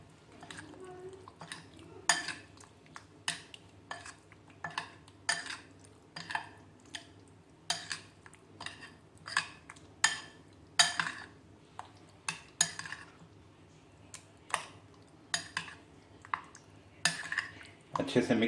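Chicken tikka marinade gets mixed in a bowl, making a steady series of close clinks and scrapes from a spoon against the bowl, repeating every second or so.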